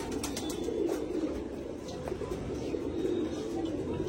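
Pigeons coo in low, soft, repeated murmurs close by, forming a continuous layered burble with a few faint chirps over it.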